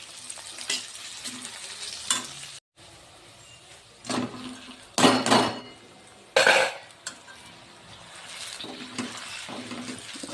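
Chowmein noodles fry and get stirred in a pan in a village kitchen, with intermittent scraping and clattering bursts of utensil against metal over a steady low sizzle, close and moderately loud.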